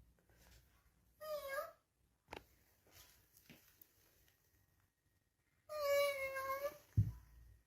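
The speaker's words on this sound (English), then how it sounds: "Her daughter's button-activated cat toy turns on by itself, making noises" A child's button-activated cat toy, switching on by itself, gives two bursts of electronic meowing with babbling tones, separated by quiet stretches with faint clicks and room noise.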